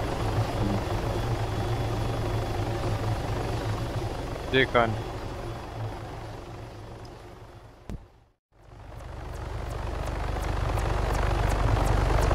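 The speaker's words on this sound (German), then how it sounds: "Da eben gerade welche mit Heli gestartet, die fliegen in eure Richtung" A helicopter in the video game Arma 3 drones steadily with a loud rotor and engine hum, and someone speaks briefly over it before the sound drops out for a moment and then swells back.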